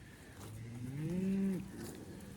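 A single cow moos on a farm with calves nearby, one clear, fairly close low call that swells and then falls off over about a second against quiet outdoor background.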